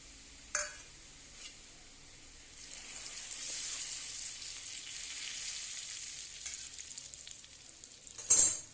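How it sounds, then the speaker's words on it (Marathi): A tadka of cumin, red chili powder, turmeric and onion-garlic masala hits hot oil. A sharp clink comes first, then a soft sizzle builds and hisses steadily before a louder clatter at the end. "मी तडक्याला 2 चमचे लाल तिखट, 1 चमचा हळद आणि कांदा लसूण मसाला 2 चमचे घेतलेला आहे"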